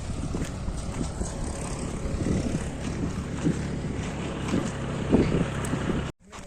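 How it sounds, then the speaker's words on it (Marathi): A tractor on a farm road gives a continuous low engine drone, partly buried under gusty wind noise, at a steady level until it cuts off near the end. "हा आमचा गावाकडचा शेताचा रस्ता आहे आणि हे ट्रॅक्टर येत आहे"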